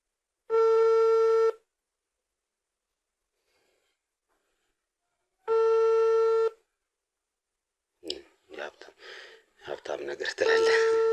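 Outgoing phone call ringing unanswered: two long, steady ring tones separated by silence, followed by nearby talking.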